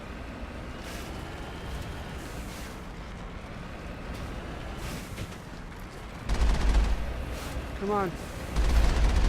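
Turret gunfire in the Mass Effect video game, heard as dense, rumbling bursts of blasts that swell louder partway through and again near the end, with someone talking briefly over the noise.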